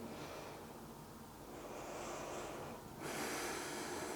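Deep breathing during a yoga twist: slow, airy inhales and exhales, soft and close, with a stronger, fuller breath near the end.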